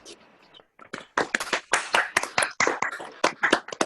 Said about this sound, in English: we'll just give them a big round of applause